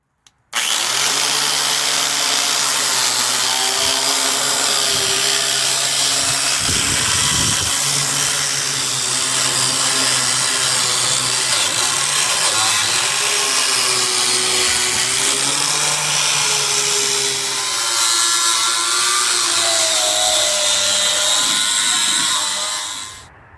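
Power tool wire wheeling and sanding the frame of a 1956 Studebaker Power Hawk, a loud steady whine running continuously for over twenty seconds with slight pitch shifts as it bears on the metal.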